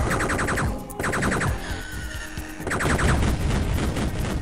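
Rapid bursts of gunfire and crashing blasts from the Duke Nukem 3D game, including an exploding fire extinguisher, loud and dense with brief gaps, no talking.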